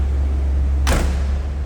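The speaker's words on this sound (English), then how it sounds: "Door closes nicely." A 1980 Chevrolet Corvette Coupe door slams shut once with a sharp, solid thud over a steady low engine idle.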